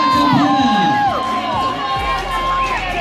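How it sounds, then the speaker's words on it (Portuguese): Spectators cheer and shout loudly at the finish of an XCO elite mountain bike race in Brazil, a dense close crowd roar with whoops and children's high shouts throughout. "Para receber os aplausos. O calor da galera."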